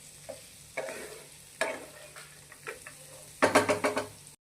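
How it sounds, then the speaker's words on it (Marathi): Potatoes fry in a pan with chili and peanuts for a fasting potato paratha filling. Sizzling builds with each stir, bursts of scraping and frying come up close, and a louder rapid flurry closes the clip. "बटाटे देखील आपले याच्यामध्ये चांगले फ्राय करून घ्यायचे आहे, परतून घ्यायचे आहे"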